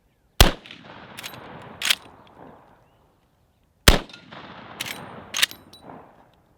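A Henry lever-action rifle chambered in 45-70 fires two loud, sharp shots a few seconds apart, each followed by a long outdoor echo and a lever-cycling clack.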